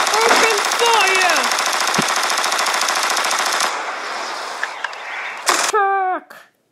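Animated cartoon gunfire between plastic toy soldiers, a loud rapid machine-gun rattle lasting several seconds with whistling effects and shouted voices over it, then a few separate bursts and a ricochet-like sweep at the end.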